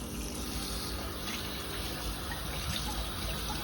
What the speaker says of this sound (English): We will begin by turning on the water.